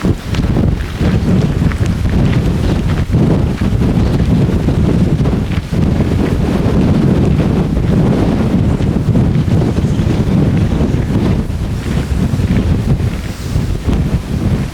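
Strong wind roars continuously and loudly at a hilltop viewpoint, buffeting the microphone in heavy rumbling gusts, with no talking.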